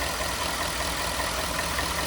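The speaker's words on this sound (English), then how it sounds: "we're going to do this little checking out of the engine to see how it sounds" A car engine idling after a cold start, a steady, dense rumble with a faint ticking texture, close and constant throughout with no speech.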